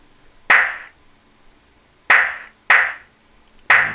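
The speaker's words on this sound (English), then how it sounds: "that's like a clap. I use a clap." A clap sample in Samplitude Pro X6 gives four sharp, dry claps at uneven intervals, each short with a quick decay, played alone.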